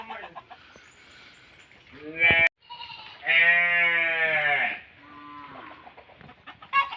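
Ducks in a pen quack in loud, harmonic bursts, one long call in the middle, close by, while people talk over them.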